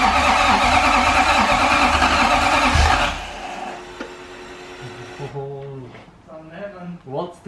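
Toyota 1UZ V8 engine in a Cressida swap cranking on a faulty starter, a loud rough churning that cuts off abruptly, followed by quieter mechanical sounds and a person talking nearby.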